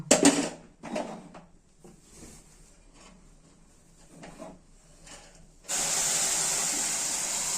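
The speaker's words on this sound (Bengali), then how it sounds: "এটা আমার ভাজা ভাজা হয়ে এসছে। এখন হচ্ছে দুধটা ঢেলে দেব।" Milk is poured into a pan of fried vermicelli and a loud steady hiss of steam and sizzle bursts up, following several quieter clinks and scrapes of stirring in the pan.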